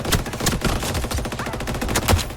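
Rapid bursts of automatic gunfire from a free-to-play futuristic shooter game crackle loud and close, overlapping shots in a dense, continuous volley.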